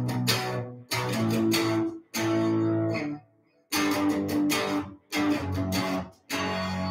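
Loud overdriven electric guitar power chords strummed in sustained blocks, separated by short silent pauses, thick and fuzzy with ringing tails.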